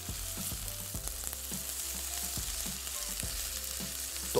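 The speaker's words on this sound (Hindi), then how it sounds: "अब इस गोश्त की हमने भुनाई करनी है बहुत अच्छे से" Meat browning in a pot, a soft continuous sizzle with faint sputters and light knocks from stirring, fairly quiet and close, no voices.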